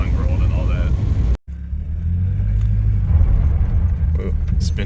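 Engine of a Toyota pickup with a 2.7L 3RZ swap roaring steadily as its wheels spin in dirt, a loud continuous low rumble cut by a brief dropout, with people talking over it.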